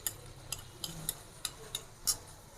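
A spoon scrapes and stirs ground ginger paste in a pan while chicken karahi cooks. The strokes are evenly spaced and up close, with a faint sizzle underneath and no voices.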